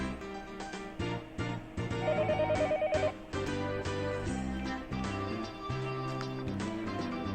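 A telephone rings in the video game Higurashi When They Cry Hou, a repeating electronic ring pattern heard loud and alone over steady game music.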